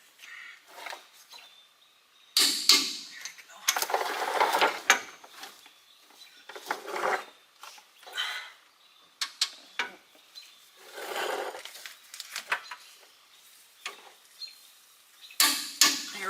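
Wrench ratcheting and straining as steering gearbox bolts on a 2005 Cummins truck are torqued to 145 foot-pounds, with bursts of clicking and metallic effort in uneven spurts, close up, with no talk.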